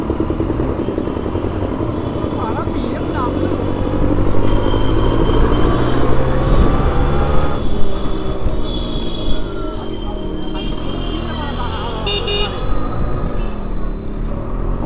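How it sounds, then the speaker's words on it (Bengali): A vehicle just ahead in rain-soaked road traffic gives off a loud, thudding putt-putt engine drone that runs steadily throughout, mixed with the rumble of surrounding traffic, with faint voices at times. "সামনে গাড়িটা তো আমার থেকে বেশি আওয়াজ হচ্ছে,"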